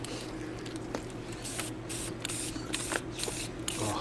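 Short bursts of spraying hiss out in an uneven rhythm, close and fairly quiet, with a steady low hum running underneath and no talking.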